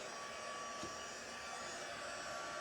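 A heat embossing tool blows a steady, loud whirring hiss of hot air over cardstock while making Christmas cards, continuous for the whole stretch with no talk.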